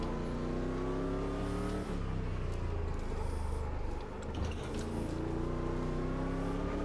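A Stadium Super Truck engine roars continuously in Automobilista 2 racing at Long Beach, a loud steady drone with rising and falling revs and a brief dip as the truck shifts and accelerates.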